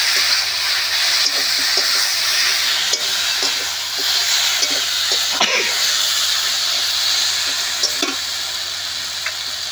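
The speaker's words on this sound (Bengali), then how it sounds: "জল দিয়ে দেব।" Vegetables with a mustard-poppy seed paste frying in a pan, a steady close sizzle and hiss running throughout with small clicks and stirs, as water goes into the pan.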